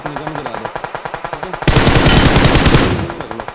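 Gunfire from an M24 sniper rifle in a battle royale video game: a quick rhythmic train of loud shots, then a dense sustained burst of blasts about a second long, close and with no voices.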